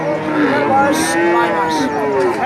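A nine-month-old Friesian heifer calf moos loudly and close at the Talgachhi cattle market, one long drawn-out bellow filling the moment.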